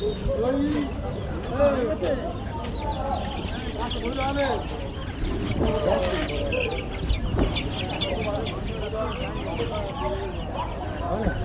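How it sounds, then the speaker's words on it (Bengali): Chickens clucking and chirping steadily, several birds near and around, with a constant busy background and some talk mixed in. "দেখুন আরও মুরগির ছানা আছে, এদিকে মুরগি আছে আপনাদের দেখুন।"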